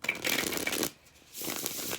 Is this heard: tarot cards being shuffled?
yes